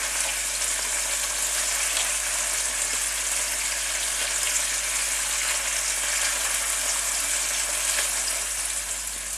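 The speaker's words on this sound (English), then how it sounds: "Now you want to brown them off in a pan with some extra virgin olive oil in it" Rabbit pieces browning in extra virgin olive oil in a pan give a steady, close, loud frying sizzle that holds evenly throughout with no voices.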